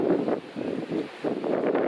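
Gusty sea wind on Sainte-Marguerite Island buffets the microphone in uneven surges, loud rushes broken by brief lulls, with no voices.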